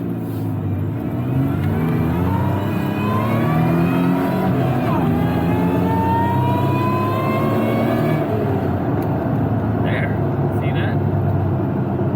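A Toyota Tacoma pickup truck accelerates hard, its engine rising in pitch through a sweeping rev climb over several seconds, loud and close from inside the cab, then easing off toward the end.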